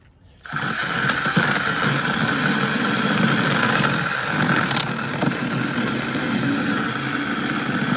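A cheap mini chainsaw starts up abruptly and runs at a steady, buzzing pitch while cutting through a 3-inch oak stick, loud and close, holding an even drone to the end.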